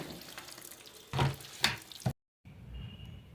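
Dishes washed under a running tap in a home kitchen: splashy water bursts that build twice, a brief silent cut, then a soft steady trickle. No talk is heard.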